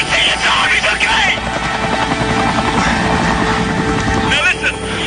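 Helicopter rotor thudding loudly and continuously nearby during a rescue of a climber trapped under a boulder, with excited voices talking over the steady engine roar.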